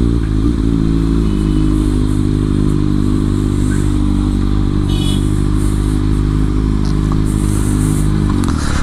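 A Kawasaki Ninja ZX6R engine drones loudly and steadily throughout a test ride, with a constant low rumble and occasional faint clatter, no voices.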